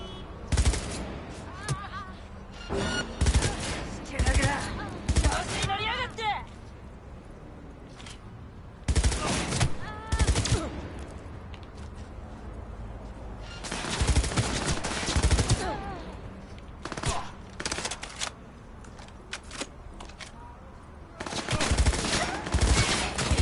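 Repeated bursts of automatic gunfire from the Cyberpunk 2077 video game, loud rapid volleys in several separate clusters with short pauses between them, as though a magazine is being emptied.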